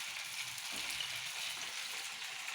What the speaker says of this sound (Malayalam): കഷ്ണങ്ങളാക്കി ഇഡലി നമുക്കൊന്ന് വറുത്തെടുക്കാം.